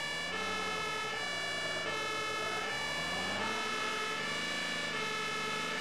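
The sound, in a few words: fire engine siren switched on, from video game Emergency 112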